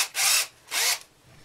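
A drill bores through wood and plastic in two short bursts of harsh, gritty whirring, each under half a second, close by with quiet between.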